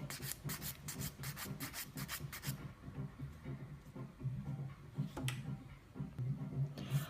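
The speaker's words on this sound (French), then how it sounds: "vous limez uniquement la partie qui est recouverte de vernis permanent" A nail file rasps back and forth over permanent gel polish on a fingernail. The strokes are fast and rhythmic at first, then become a steadier, continuous rubbing close by.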